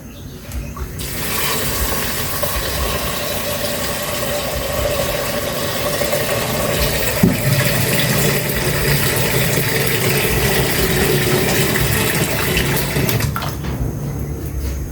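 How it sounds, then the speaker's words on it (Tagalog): Water pours into a cooking pot of sautéed pork and tomato, a steady close rushing splash lasting over ten seconds before stopping. "Lagyan ko muna ng tubig."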